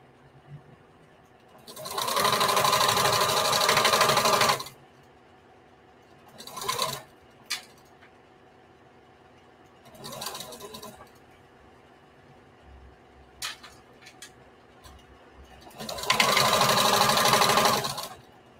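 A sewing machine runs in three long bursts as it gathers fabric for a patchwork bandana skirt, separated by shorter stitching runs and pauses of quiet handling noise, fairly close and steady while running.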